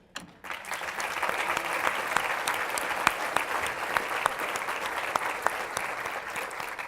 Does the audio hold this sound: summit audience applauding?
yes